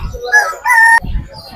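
Chickens crow and cluck loudly up close at the Fatullah wholesale hen and duck market in Bangladesh, with two sharp calls and low market bustle between them.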